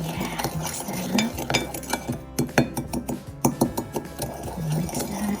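A utensil mixes churro toast ingredients in a bowl, scraping and clinking against the sides in quick, irregular strokes. The sound is close and fairly loud, with no speech.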